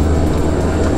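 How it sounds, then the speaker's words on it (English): Inside a small skydiving plane cabin before a tandem jump: a loud, steady low engine drone and rumble fills the cabin throughout, with no voices. "Finally on the plane."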